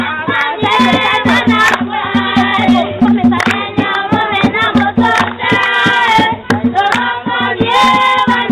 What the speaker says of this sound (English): Others are clapping, hold your hand.